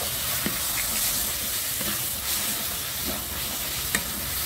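Chicken masala being stir-fried in a pan: a steady sizzle and hiss with scattered scraping stirs and a few sharp clinks of the spatula, close and even throughout.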